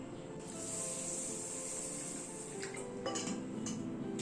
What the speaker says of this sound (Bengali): প্রথমে চালটাকে ভালো করে ধুয়ে নিচ্ছি।